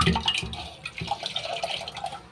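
Water sloshes and trickles as a dirty item is dipped into a container of water for cleaning, with small splashes and drips repeating over a couple of seconds, close and fairly quiet.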